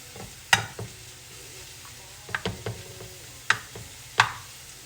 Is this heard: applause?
no